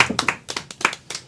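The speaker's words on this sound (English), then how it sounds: "Big applause" A small group claps briefly, a handful of uneven, close-up hand claps spread over about a second.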